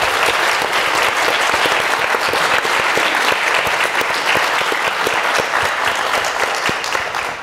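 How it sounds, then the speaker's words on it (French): Sustained, lively applause from the audience at a round table on French in business, many hands clapping evenly and loudly throughout. "Je pense qu'ils méritent tous une bonne main d'applaudissements."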